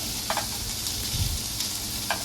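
White onions frying for tofu sisig hiss steadily in a hot pan while being stirred, with a few scraping and clinking strokes of the spatula over the constant sizzle.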